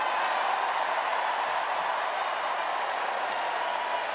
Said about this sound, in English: prompting wild applause